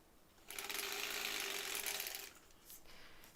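Sewing machine stitching steadily for about two seconds in a quiet room during foundation paper piecing, a fast mechanical whirr that starts abruptly and stops, followed by faint handling clicks.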